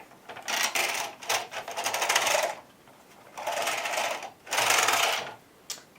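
A knitting machine carriage slides across the needle bed and back, making close, loud rattling whirs in several passes with short pauses between.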